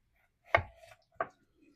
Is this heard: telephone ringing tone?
no